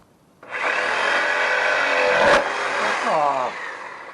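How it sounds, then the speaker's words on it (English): Jigsaw cutting wood for a bird feeder, a loud continuous buzzing drone with heavy vibration, a brief sharp spike near the middle and a falling whine as the blade slows toward the end. "Too much vibration in the jigsaw and I couldn't stop it."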